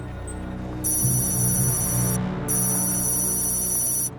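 A telephone rings unanswered in two long electronic bursts separated by a short pause, loud over a low steady background rumble in a dubbed action film.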